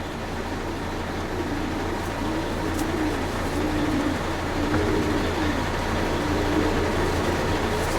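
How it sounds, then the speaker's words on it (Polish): Racing pigeon cooing in repeated soft low phrases close by, over a steady mechanical hum in the background. "Przepiękny gołąb, super zbudowany"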